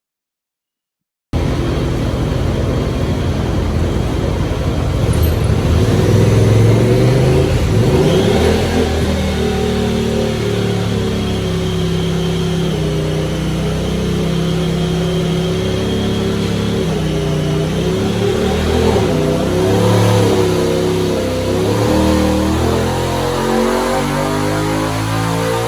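A Honda Talon 1000 side-by-side engine runs hard on a dyno, loud and close, its pitch climbing and sweeping through repeated revs over a sustained pull after a short silent start.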